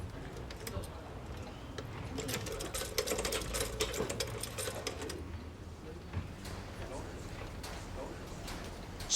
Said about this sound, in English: I can start stitching things and it'll be really secure.